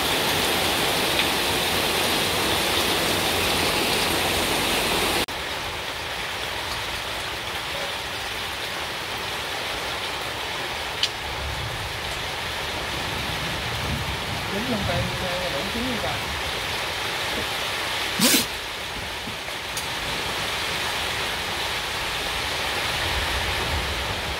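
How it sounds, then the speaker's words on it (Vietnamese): Heavy rain pours outside during an outdoor grilling of a large field snakehead fish on sugarcane, a steady, dense hiss filling the whole stretch with only small shifts in level. "Ngoài trời vẫn còn đang mưa to."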